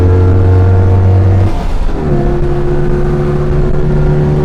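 A modified 720cc Citroen 2CV engine revs hard at full throttle, a loud, steady drone that drops as a gear changes and then climbs and holds again, up close and with nobody talking.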